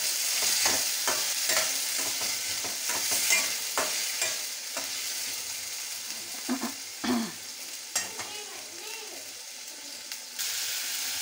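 Peas and pigeon-pea lentils roast in a pan over low gas, giving a steady soft sizzle under repeated scraping and stirring strokes, with a few clinks of a spoon against the pan.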